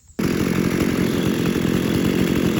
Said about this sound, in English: I'll fire up those two saws and show you up those two running.